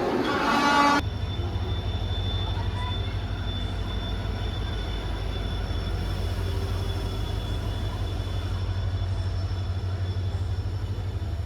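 A Panvel to Roha MEMU commuter train pulls into the station, its horn sounding briefly at the start before a steady, loud rumble of the rolling train and motor hum carries on with no talk.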